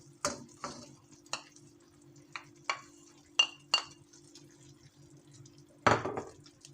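Artichokes and potatoes being turned in a pot while they cook, giving scattered clinks and scrapes of a utensil over a faint steady sizzle, with a louder knock near the end.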